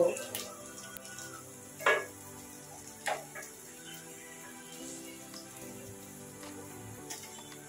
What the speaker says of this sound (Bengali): আস্তে আস্তে সব কাবাবগুলো পাল্টে দিয়েছি, আরো কিছুক্ষণ ভেজে নেব।